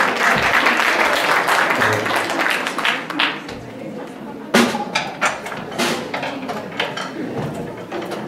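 A crowd at a Dragobete 2022 event in a county library applauds a drummer, with dense, sustained clapping at first that thins into scattered individual claps and a few knocks and shuffles.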